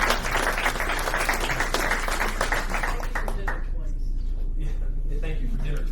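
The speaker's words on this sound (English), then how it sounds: "Round of applause for" Applause rises from the audience at a school board meeting, with steady clapping for about three seconds that then fades as people start talking and chattering.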